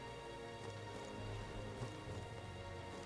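Rain in the video game Metaphor falling steadily on the ground, a soft constant patter with faint droplet ticks, quiet and alone.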